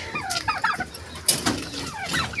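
Backyard poultry in a garden, including turkeys and chickens, gobble and cluck in a busy, overlapping chorus close by, with calls rising and falling throughout.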